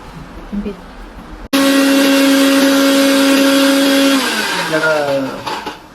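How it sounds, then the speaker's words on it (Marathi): Kitchen mixer grinder starts abruptly and runs loud and steady for about three seconds, its motor whine dropping in pitch as it winds down near the end; faint voices are heard before it starts. "मिक्सरमध्ये मी ग्राइंड केलं"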